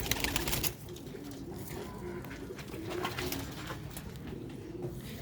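Pigeons coo in low, repeated phrases from black-faced Sialkoti birds in a park, steady and moderately close over a constant outdoor hiss, with no talking.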